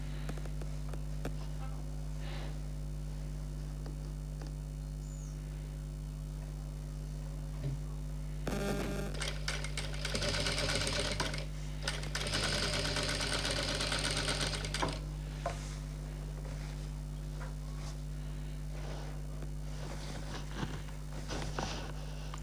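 Electric sewing machine stitching the edge of a blouse, with a constant low motor hum and bursts of rapid needle chatter starting and stopping in the middle, close and alone.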